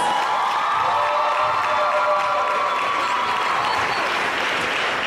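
A crowd at a high school varsity senior night in a basketball gym applauds and cheers, a continuous dense wash of clapping with scattered whoops, loud and steady.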